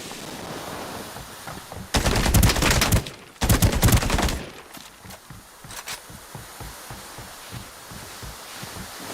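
Gunfire in the battle royale game Ring of Elysium: two loud, close bursts of rapid automatic shots, each about a second long, followed by quieter rhythmic footsteps or hoofbeats.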